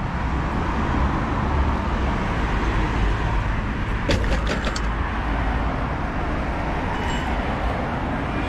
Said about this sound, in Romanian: Mașinile civile intră una după alta în buzunarul ăsta.